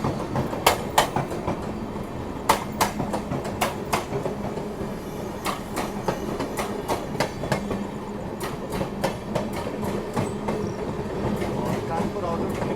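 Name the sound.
Rajdhani Express train running on tracks, clickety-clack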